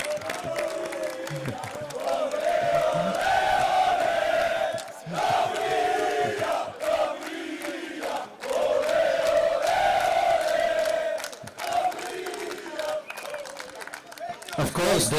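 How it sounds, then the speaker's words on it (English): A crowd at the EMF Champions League football tournament applauds and cheers the Romanian winners, a sustained roar of clapping and shouting with chanting voices rising and dipping over about fifteen seconds. "Big applause for them as well."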